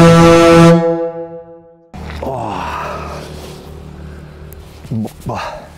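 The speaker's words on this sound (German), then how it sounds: "aber wir hupen jetzt mal, ne?" A loud, deep horn blast from a DIY offroad 4x4 truck camper sounds for under a second, then cuts off and gives way to low rumbling and background talk.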